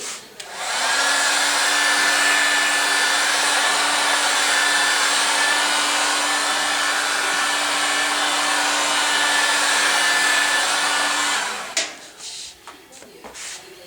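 A hand-held blow dryer runs loud and steady for about eleven seconds, drying glue on a Porsche 911 targa top during restoration. It gives a continuous airy roar with a faint whine, then cuts off, leaving a few soft handling clicks.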